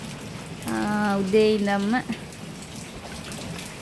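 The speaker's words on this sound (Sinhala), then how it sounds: "මේ පැත්තට නම් ඔන්න අද දවසම වහිනවා" Steady rain falling all day, a soft continuous patter heard throughout, with a voice speaking briefly over it.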